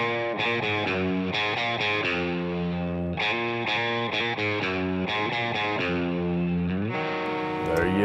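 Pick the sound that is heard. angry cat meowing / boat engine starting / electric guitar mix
electric guitar mix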